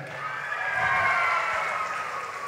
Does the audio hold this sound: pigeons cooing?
no